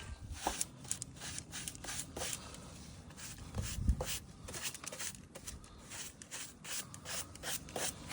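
A brush scrubs dirt and sand from the rubber door seals of a car, making continuous close rubbing and scratching strokes in a quick, uneven rhythm, with no speech.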